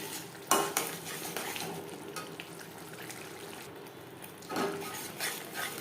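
Spice masala being stirred in a pan for a vegetarian paneer dish, quiet frying hiss with a few distinct scraping strokes and clinks of a spoon against the metal.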